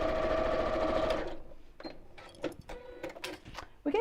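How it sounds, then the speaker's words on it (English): Sewing machine stitching the top of a bag flap to the back of a bag: a steady, fairly close motor whir runs for about a second, then stops, leaving faint clicks and handling sounds. "I'm just going to sew the top of the flap to the top of the back of the bag."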